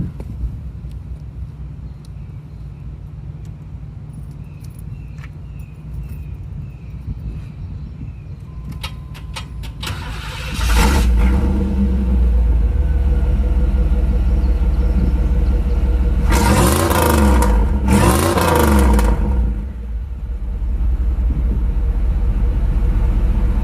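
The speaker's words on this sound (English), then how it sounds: "Now that's what you call an exhaust." A project car idles quietly at first, then its engine fires up and settles into a loud, deep exhaust rumble, with two sharp revs blasting through the exhaust before it drops back to a heavy idle.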